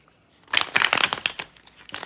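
Deck of reading cards being shuffled during a tarot reading, a quick run of papery riffling and flicking that starts after a brief silence and continues close and steady to the end.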